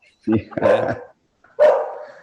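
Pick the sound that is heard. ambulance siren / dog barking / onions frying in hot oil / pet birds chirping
dog barking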